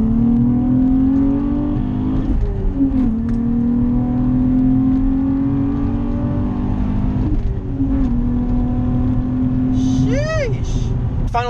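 A Nissan G35/350Z fitted with a 75mm throttle body accelerates in second gear around 3000 RPM, its engine note climbing steadily and loudly from close by, easing briefly, then rising again in a second sustained pull.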